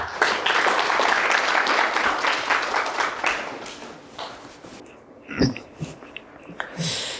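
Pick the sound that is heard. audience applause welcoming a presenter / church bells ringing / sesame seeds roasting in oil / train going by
audience applause welcoming a presenter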